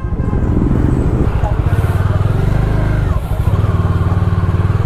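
A Himalayan 450 motorcycle engine thrums steadily on a city road during a test ride, a loud, close, continuous rumble with slight shifts in pace.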